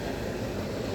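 An Indian Railways WAG-12 electric locomotive of 12,000 horsepower hauls a freight train, a steady, loud, close rumble of rolling wagons with no voices.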